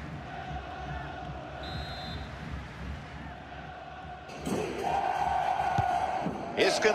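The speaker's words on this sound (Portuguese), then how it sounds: "A torcida acordou." Stadium crowd from the FIFA 22 video game during a corner kick in an Internacional vs Athletico Paranaense Brasileirão match: a steady distant murmur with a brief high whistle-like tone, then a sudden loud swell of roaring, chanting fans.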